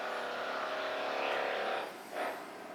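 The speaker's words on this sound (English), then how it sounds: "You want to hear motorbikes?" A motorbike engine drones steadily as it passes at moderate distance in Milheim, fading out, then a second brief rise of engine noise.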